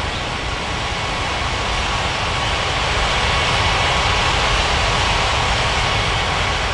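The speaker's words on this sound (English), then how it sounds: "Aero Mexico 9075. Cleared for takeoff runway 35." Airliner jet engines roar steadily at takeoff in an air traffic control game set at Paradise Island International, a loud, unbroken broadband rush with no speech.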